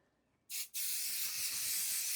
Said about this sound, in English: I'm going to grab some basting spray while I'm here